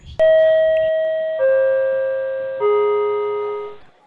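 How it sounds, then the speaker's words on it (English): A three-note electronic chime plays in descending steps, each tone ringing clearly and fading slightly before the next, with no talking. "You're going to go Subway Chime and then go."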